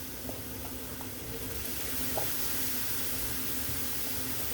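Eggplant chunks fry in olive oil in a pan, giving a steady, even hiss and sizzle with faint crackles, close and continuous without speech.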